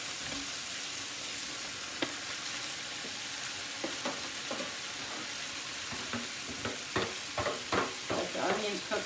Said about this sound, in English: Let the onions cook a little bit more.